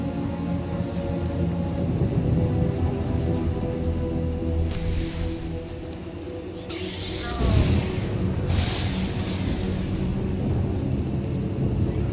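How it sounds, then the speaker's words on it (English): Heavy rain pours steadily through a thunderstorm in a Star Wars game, with rumbling thunder rolling in and a sharper crack near the middle, all continuous and fairly loud without clear talk. "Hard to track them through the storm"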